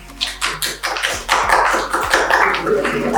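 A classroom audience gives a short burst of clapping for a student, many hands clapping close by, quickly swelling into dense, steady applause.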